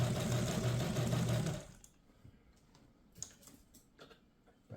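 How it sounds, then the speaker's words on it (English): A Kenmore 117.589 sewing machine winds a bobbin with a loud steady motor whir that stops after about two seconds, followed by light clicks and taps. "you can also wind the bobbin while you sew"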